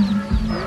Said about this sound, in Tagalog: Tingnan mo mga manok.